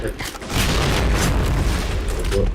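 A grenade explodes in a shooter video game as a loud, sustained boom that swells after a brief lead-in and rumbles on to the end.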